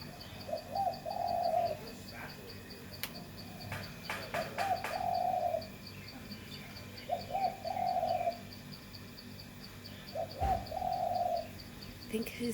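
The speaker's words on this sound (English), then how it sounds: "She's doing her bird call." A female lovebird calls from her nest in short, repeated bursts, four or so spaced a couple of seconds apart, moderately faint against a steady background hiss with a few sharp clicks.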